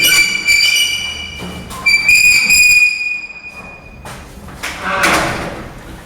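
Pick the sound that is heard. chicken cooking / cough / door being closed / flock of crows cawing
door being closed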